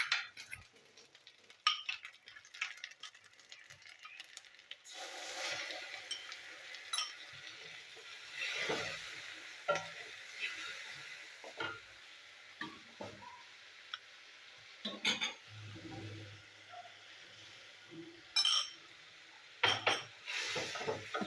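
A watered spice paste of coriander, cumin, chili and turmeric powders hits frying onions in a pan, with soft sizzling and intermittent clinks and scrapes of a stirring utensil, close and alone.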